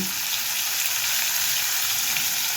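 Onions frying in a pan for a drumstick-leaf curry, a steady close hiss of sizzling oil with no break, filling the whole stretch without voices.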